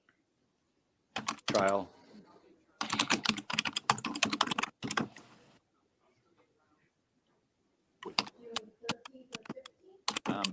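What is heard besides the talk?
typing on a computer keyboard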